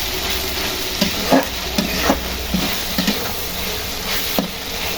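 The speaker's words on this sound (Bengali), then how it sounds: "এই যে তেহারির জন্য মাংসটা কষায় রাখছি সুন্দরভাবে।" Meat braises and fries in a pan for tehari with dried and green chilies, a loud continuous sizzle broken by repeated stirring clanks and scrapes every second or so.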